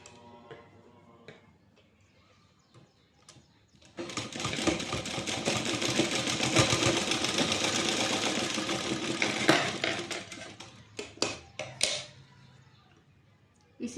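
A sewing machine runs continuously and loud for several seconds, stitching a button onto kurti fabric, then slows into a few short separate bursts, with quiet stretches before and after.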